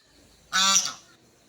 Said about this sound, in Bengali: আমার রাজহাঁসটা কীভাবে ডাকে